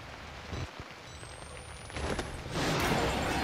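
Steady rain falling in the Outlast horror game, a constant broadband hiss that swells louder in the last second, with no talk over it.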